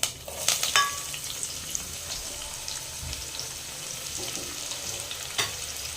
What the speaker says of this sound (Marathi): कांदा छान लालसर रोजपर्यंत आपल्याला परतून घ्यायचा